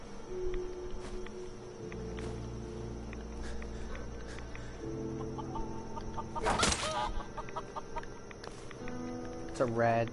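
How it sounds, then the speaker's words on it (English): A mutated rad chicken in Fallout 4 clucks faintly against game music and ambience, with someone briefly talking. "Rad chicken."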